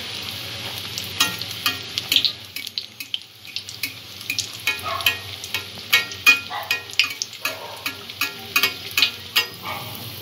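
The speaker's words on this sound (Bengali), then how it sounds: "চপগুলো এইভাবে গোল্ডেন ব্রাউন করে এপিট ওপিট করে ভেজে নিতে হবে" Paneer cutlets frying two or three at a time in hot oil, a continuous close sizzle broken by frequent sharp crackling bursts and spatters at an uneven rhythm, with no talking.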